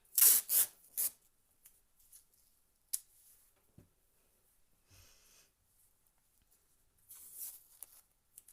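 Drawing paper being taped down on a work surface: a few quick tearing and rubbing bursts of tape at the start, then scattered faint handling sounds and quiet gaps, with another soft rustling patch near the end.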